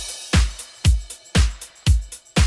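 A disco drum loop with punchy kick, snare and hi-hats repeats in a steady four-on-the-floor groove, loud and close with nothing else over it.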